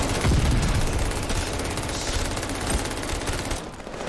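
Rapid automatic gunfire in the Call of Duty video game, dense overlapping bursts and thumps that keep going loudly throughout and thin out at the very end.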